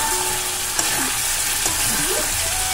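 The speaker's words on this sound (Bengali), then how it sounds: "দেখো ভালো করে কষিয়ে নিচ্ছি" Spiced masala sautéing in a pan, a steady oily sizzle running throughout with a few scraping stirs of a spoon against the pan, close and fairly loud, no voices.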